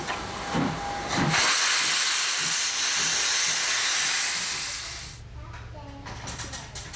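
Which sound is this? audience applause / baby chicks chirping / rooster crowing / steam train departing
steam train departing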